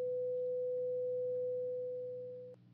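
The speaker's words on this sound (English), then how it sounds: "If you could hear it, it sounds like a continuous tone." A continuous-wave radio transmission renders as a single steady, unmodulated tone held for about two and a half seconds, then cut off abruptly, over a low background hum.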